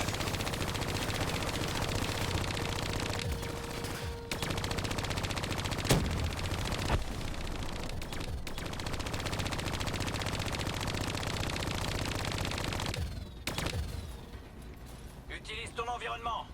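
Turret gunfire in a video game plays continuously as dense rapid bursts under spoken commentary, with a few louder reports standing out.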